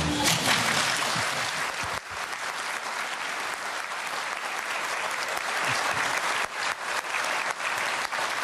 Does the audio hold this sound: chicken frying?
no